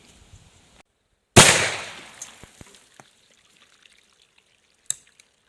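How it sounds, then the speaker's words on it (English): An antique .410 shotgun slug round fired outdoors: a single sharp, loud bang with a trailing echo that fades over about a second, then scattered faint ticks and a brief click near the end. "It went bang alright."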